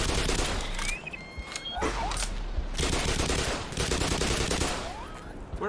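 Rapid gunfire from a gun in the video game Black Mesa, dense repeated shots blasting in loud overlapping bursts almost without pause throughout.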